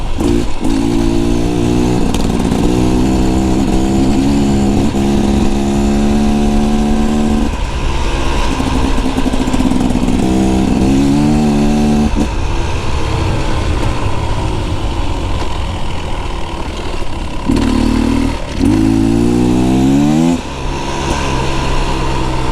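A 2024 Beta Xtrainer dirt bike engine pulls steadily up a mountain pass, loud and close throughout, its pitch climbing and dropping through repeated rev swells without a pause.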